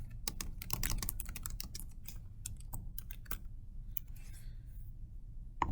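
Quick, steady typing on a computer keyboard, close and clear, with dense clusters of keystrokes that thin to occasional taps near the end.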